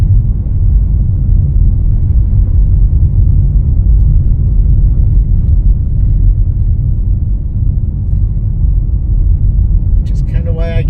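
A car climbs the winding Sidewinder mountain road where people live, its engine a steady low rumble heard from inside the cabin, close and continuous, with a brief rattle near the end.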